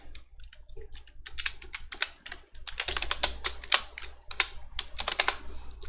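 Computer keyboard typed on while writing Python code for a paint app, bursts of quick, close key clicks with short pauses between runs.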